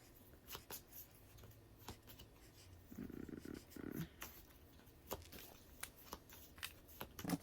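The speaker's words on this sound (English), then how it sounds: "And now I am going to shuffle these cards." Quick riffling and flicking of playing cards being shuffled up close, in short bursts with brief pauses.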